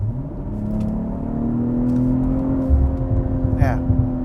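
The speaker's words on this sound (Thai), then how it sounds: "กดโหมดสปอร์ตนะครับ เสียงเครื่องยนต์เปลี่ยนนิดนึง" A BMW M340i xDrive LCI engine in sport mode hums steadily with a rising tonal drone and a brief higher burble near the end, heard from inside the car.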